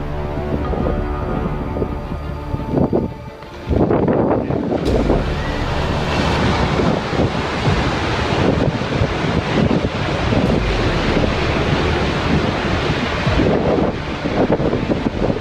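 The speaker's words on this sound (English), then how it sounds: "the sound of the wind and ice crashing against the rocks" Wind gusting and glacier ice crashing against rocks at the Argentière ski area in the French Alps, a continuous loud roaring wash with heavy rumbling breaks, no voices.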